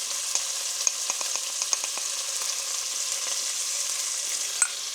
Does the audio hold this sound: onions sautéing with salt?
yes